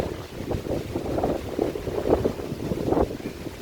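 Strong wind buffeting a boat, a loud, close rumbling roar of gusts hitting the microphone in uneven surges, with no one talking.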